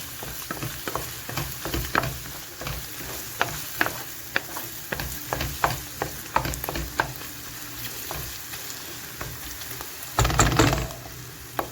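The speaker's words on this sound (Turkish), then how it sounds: "Şimdi bununla kavuruyorum." Food sautéing in a pan with a pinch of red pepper, stirred with a utensil: a steady sizzle carries repeated sharp scraping strokes at an even pace, with a louder, denser burst of frying near the end and no talking.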